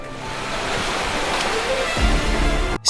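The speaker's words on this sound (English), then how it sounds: "the beach waves here, I want to adjust a little fade in and fade out so it sounds natural" Recorded beach waves used as a sound effect with a fade in and fade out, a steady loud wash of surf that swells slightly before cutting off near the end.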